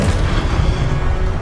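A Confringo blasting spell going off in the Hogwarts Legacy video game, a loud, sustained low rumble and boom that fills the whole moment.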